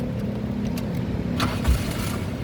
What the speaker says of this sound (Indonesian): Nah, ini kita coba nyalakan mobil ya.